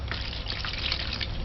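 Water runs and splashes steadily into a pan for a short moment, a close, continuous wet rush.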